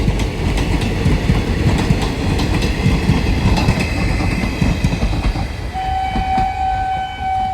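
The Bhagirathi Express passenger train rumbles past at Murshidabad station with clattering wheels, and near the end a sustained horn blast sounds over the fading roar.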